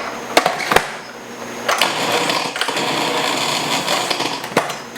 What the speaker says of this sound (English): we're gonna grind this down into little pieces right now